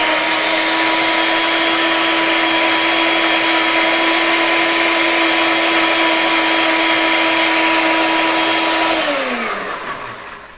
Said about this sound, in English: So after you add all of those ingredients, you're just going to blend away